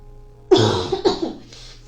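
A single harsh cough followed by a shorter second cough, close and fairly loud, with no talking.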